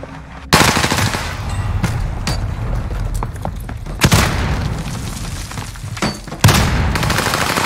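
Heavy automatic gunfire in the shooter game Warzone, continuous rattling bursts with sharp loud cracks striking at intervals, nearby and dominant, with no talk over it.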